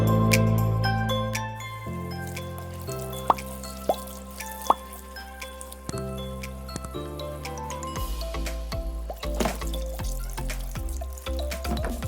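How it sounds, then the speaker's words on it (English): Tap water runs and drips as vegetables, including carrots, are rinsed in a sink before sautéing, with close plops and clinks over a steady trickle, while low tonal background music plays. "First I will go ahead by washing my vegetables."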